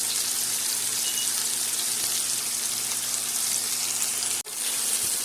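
Butter sizzles steadily in a hot pan alongside a London broil steak, a continuous close frying hiss with no voices over it, broken briefly by a short dip near the end.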